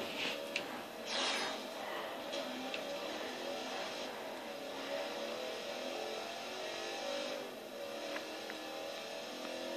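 A 2004 Saleen S7 racing in the video game Forza Horizon, its engine a steady mid-level drone with faint revving throughout, soft and slightly distant.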